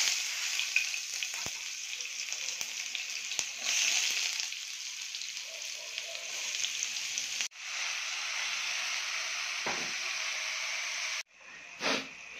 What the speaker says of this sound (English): We must saute first our onions